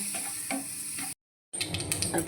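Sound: mustard seeds crackling while frying quail

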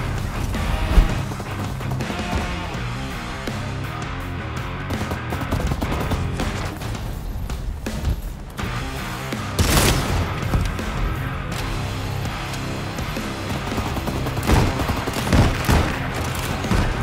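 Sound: gunshots in Vampire: The Masquerade - Bloodhunt video game

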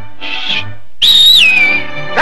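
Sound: person whistling a tune

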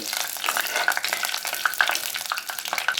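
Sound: fennel seeds spluttering in hot oil

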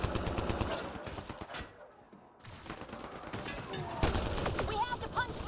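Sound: gunfire from enemies in video game Mass Effect Andromeda

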